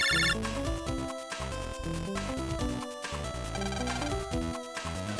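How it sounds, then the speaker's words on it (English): A cell phone rings in the Mega Man Battle Network 4 video game, a bright, repeating electronic ringtone melody that plays continuously and alone over the game's music. "Phone call."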